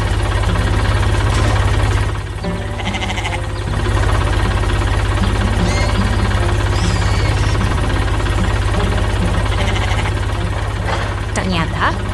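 A heavy tow truck engine idles with a deep, steady rumble, accompanied by faint mechanical rattles and some indistinct background sounds.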